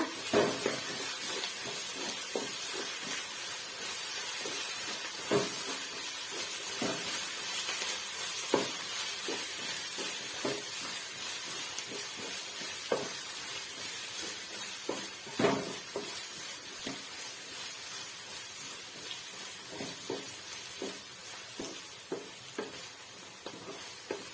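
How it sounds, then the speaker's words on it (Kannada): Ginger garlic paste frying in a pan for vegetable egg fried rice, steady close sizzle and hiss with scattered scrapes and taps of a spoon stirring, no voices. "ಒಂದು ಸ್ಪೂನ್ ಶುಂಠಿ ಬೆಳ್ಳುಳ್ಳಿ ಪೇಸ್ಟ್, ಹಸಿ ಸ್ಮೆಲ್ ಹೋಗೋವರೆಗೂ ಫ್ರೈ ಮಾಡ್ಕೊಳ್ಳೋಣ."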